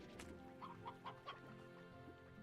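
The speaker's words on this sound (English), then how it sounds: "You're just a normal chicken." A chicken in the Slime Rancher video game clucks in a short run of four quick, evenly spaced calls over a steady game soundtrack. No one speaks.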